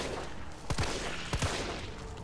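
Two sharp gunshots about half a second apart, each with a short echoing tail, over a low background hum in Resident Evil 3 Remake.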